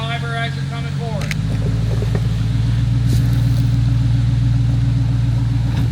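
A Hummer off-road rig's engine rumbles steadily as it crawls over rocks on an anthracite trail, a loud continuous low drone throughout with a person talking briefly over it near the start.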